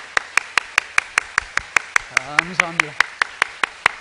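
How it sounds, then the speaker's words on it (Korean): Sharp, evenly paced claps ring out in a steady rhythm at a welcoming gathering, with a voice briefly speaking over them midway. "예, 박수하겠습니다."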